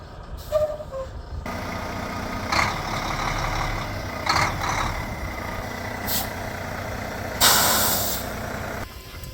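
Air brake on a truck releases in a few sharp bursts of hiss over a low idling engine rumble, close and loud, with a longer hiss near the end.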